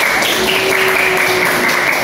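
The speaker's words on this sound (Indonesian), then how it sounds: "Tepuk tangan untuk kelompok 4." Applause for a student group in an Indonesian classroom teaching session, a steady continuous patter of clapping from a small crowd, fairly loud and even throughout.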